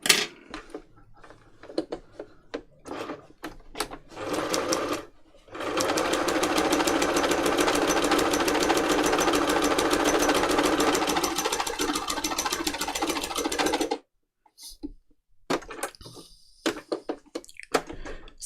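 A sewing machine doing free motion embroidery on a journal cover stitches in a short run, then one long continuous rapid whirr, surrounded by scattered clicks and handling noises.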